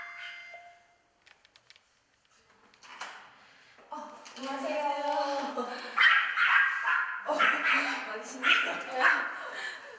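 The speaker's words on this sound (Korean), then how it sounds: "집 안에 들어서자마자 기다렸다는 듯이 제작진을 향해 무섭게 짖어대는 두 녀석." Two dogs in a family home bark fiercely at strangers arriving indoors, a loud sustained volley of barks and yips over a raised voice, building after a quieter start.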